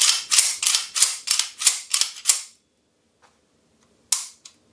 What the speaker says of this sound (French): On vérifie le bon fonctionnement de l'arme.